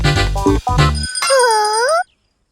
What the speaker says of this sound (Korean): 이런, 또 종소리잖아.